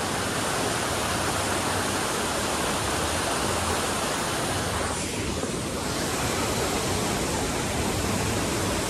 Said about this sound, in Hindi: बट ये पीछे वाटरफॉल है सुंदर सा